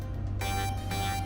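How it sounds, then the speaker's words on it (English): Digitized alarm beeping in the sci-fi shooter Beyond Sunset, resembling the Nostromo ship alarm: a steady low electronic drone with two repeating loud tonal pulses, close and continuous with no talk. "That sounds like a digitized version of the alarm on the Nostromo"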